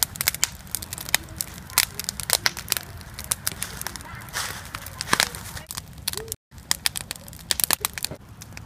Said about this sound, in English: this fire has been burning about 15 minutes. I think it's burning, still burning pretty strong.